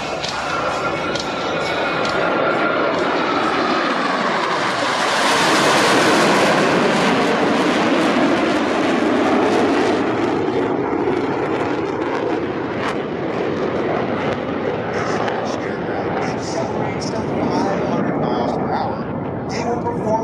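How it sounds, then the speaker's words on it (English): US Navy Blue Angels jets roar past at a New York airshow during individual brake turns, a loud, sweeping jet rush that swells and fades over twenty seconds beneath an announcer's voice. "Each pilot will perform an individual brake turn and exit the flight line in a separate"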